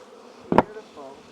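Honey bees buzz around a hive; a single close buzz swells and fades within a moment, followed by a fainter hum, with no talking.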